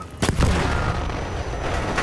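A grenade goes off in the video game Battlefield 1 on the Sinai Desert Rush map: a close, heavy double boom with a deep low thud, fading into a rumbling battlefield wash.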